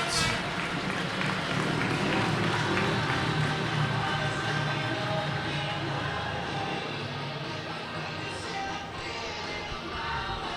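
A big speedway crowd at Poole applauds and cheers the riders after a heat, a dense, steady wash of clapping and crowd noise that thins slightly toward the end.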